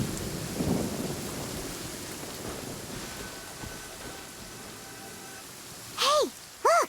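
Steady rainfall with a thunderstorm in Genshin Impact, a soft continuous hiss with a low rumble early on, followed near the end by two loud bursts of voice-like or creature sounds rising over the rain.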